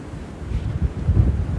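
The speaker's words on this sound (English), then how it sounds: "It's very windy today," Outdoor gusts buffeting the microphone, a loud low rumble that rises and falls in uneven surges with no other sounds standing out.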